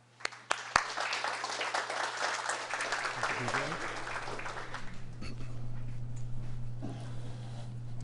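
An audience at a history lecture on American sailors held in Tripoli breaks into applause to welcome the speaker, Fred Leiner. After a few sharp claps it swells into sustained clapping that thins out toward the end, with faint voices underneath.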